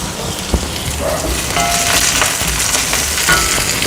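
Onions and curry leaves sautéing in hot oil in a home kitchen, a close, continuous crackling sizzle with a few sharp pops and stirring scrapes.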